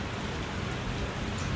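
Hailstones and heavy rain falling steadily outdoors, a dense, continuous patter of impacts across surfaces with no clear individual strikes, close and fairly loud throughout.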